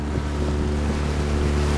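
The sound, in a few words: motorboat engine running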